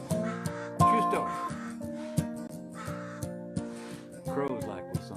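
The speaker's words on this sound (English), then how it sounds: "Crows like this song." Crows cawing repeatedly, harsh calls overlapping with a dobro playing a tune, with a voice briefly near the end.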